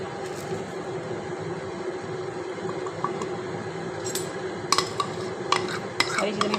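Besan paratha filling being stirred together in a bowl, a steady soft churning with scattered sharp clinks of a spoon against the dish growing more frequent toward the end.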